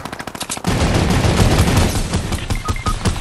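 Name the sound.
turret machine gun firing in a video game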